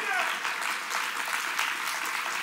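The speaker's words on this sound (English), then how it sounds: "Give the Lord a great hand clap" A church congregation claps for the Lord during a sermon, sustained hand clapping at moderate volume with a voice briefly heard over it at the start.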